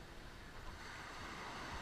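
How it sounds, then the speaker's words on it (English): Ocean waves roll in and strike a seawall at Waikiki Beach, a continuous wash of surf and spray with wind buffeting the microphone, heard from a short distance. "Watch when the waves hit that wall there, the wall beyond it."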